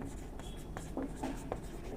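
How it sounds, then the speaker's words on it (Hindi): Chalk or pen writing a word during a lesson, a few short scratchy strokes in quick succession, close and moderately quiet over a steady room hum. "मैं यहाँ पर लिख देता हूँ"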